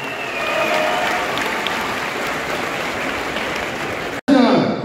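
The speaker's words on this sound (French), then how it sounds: "un tonnerre d'applaudissements" An audience applauds at a Kongs FC MMA event in La Rochelle, a sustained roar of clapping under a loud announcer's voice, cutting off abruptly near the end before a new burst of sound.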